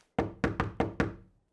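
Five sharp cartoon knocks on a door, evenly spaced and loud, each with a short hollow wooden ring, heard alone with no talk.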